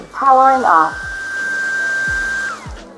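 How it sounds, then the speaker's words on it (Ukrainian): A cordless vacuum cleaner switches on with a rising whine and then holds a steady high-pitched hum close by, with someone talking briefly at the start. "а потім я вмикаю цей пилосос, починаю ним користуватись і розумію"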